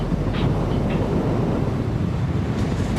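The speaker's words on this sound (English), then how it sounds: "Geez, that wind has got some kick in it, eh? When you get some speed up, it multiplies it." Strong wind buffets the microphone while travelling at speed along the limestone coast, a loud continuous low rumble with roaring gusts and no talking.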